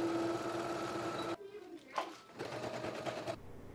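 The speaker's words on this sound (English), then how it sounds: "go ahead and take it to your machine and sew your shoulder and side seams together" A home sewing machine stitches the shoulder and side seams of a Simplicity 8513 bodysuit, giving a steady close motor whir for about a second and a half before it stops, followed by quieter handling sounds.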